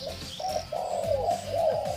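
Low, hollow cooing from a spotted dove repeats in a short rhythmic phrase, close by, with a few soft bird chirps behind it.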